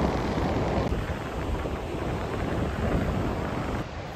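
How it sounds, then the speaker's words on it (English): Strong wind buffets the microphone on a Tasmanian beach, a loud continuous roar and rumble that fills the whole stretch with no speech. "Probably can't even hear me, it's that windy here."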